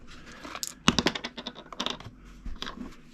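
Ten standard Games Workshop dice from a Warhammer 40K Kill Team starter set tumble out of a small bag onto a surface, giving a quick, close cluster of light clattering clicks, with a last straggler rattling free a moment later.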